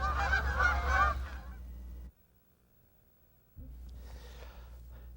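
An Aleutian goose gives a short burst of loud, close honks, then falls silent before a softer, breathy sound returns, with no talk.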